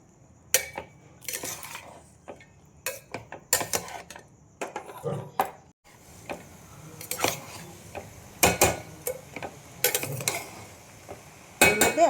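Sweet rice with dry fruits is stirred in a pot, producing scattered scraping and clinking of a spoon against metal, close and moderately quiet, with brief pauses between strokes and no clear talking.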